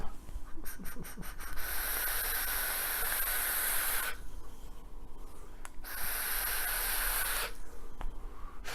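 Vapor hissing from a Livepor 256 box mod with a Clearo Pillar tank at 30 watts and 0.5 ohms: two long, loud airy draws, each several seconds, preceded by brief button clicks.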